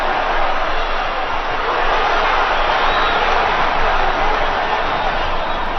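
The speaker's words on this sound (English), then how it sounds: "This crowd has not sat down." Arena crowd at a boxing match between Juanma and Papito, roaring in a steady, loud, continuous wash of cheering with no pauses.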